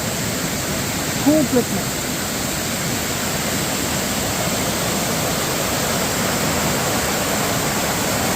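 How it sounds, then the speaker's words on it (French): A flooded waterfall at Creissels gushes on every side, a loud, constant roar of rushing water filling the whole scene, with a brief spoken word near the start. "Et la cascade qu'on voit au loin, qui dégueule de tous les côtés."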